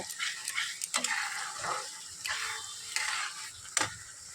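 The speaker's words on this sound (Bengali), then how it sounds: "এখানে হচ্ছে কালি আলু ভাজা করছি" Potatoes and onion fry in a pan with a soft, steady sizzle and intermittent stirring scrapes, close but quiet, with no talking.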